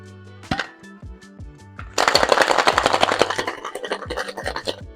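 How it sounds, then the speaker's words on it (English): A cocktail shaken hard with ice in a shaker, a dense rattling clatter starting after a couple of clinks, loud and close, with rhythmic shaking over low background music. "Add ice and shake for 12 to 15 seconds."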